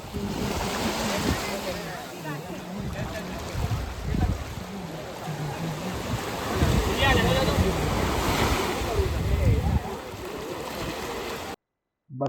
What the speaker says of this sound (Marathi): हा आहे बटरफ्लाय बीच, साऊथ गोवा.